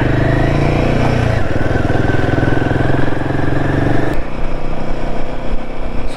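A Royal Enfield Himalayan 450 motorcycle cruising on the highway, its engine droning steadily and loudly up close with wind rush, a brief shift in tone partway through, then a steady ride again.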